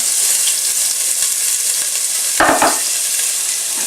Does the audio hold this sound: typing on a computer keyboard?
no